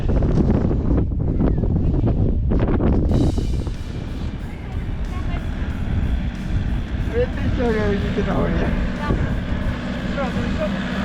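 Strong wind buffets the microphone with a heavy rumbling roar throughout, while people talk underneath it, outdoors at the Pysanyi Kamin rock site.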